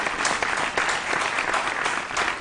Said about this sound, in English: A round of applause for them, please.